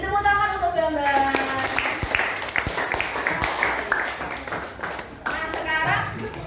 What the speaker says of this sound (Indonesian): Beri tepuk tangan untuk Bambang